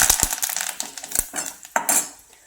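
A spoon stirring spices, curry leaves and cauliflower in a pan, with sharp metallic clinks and scrapes against the pan in quick irregular bursts, close and fairly loud.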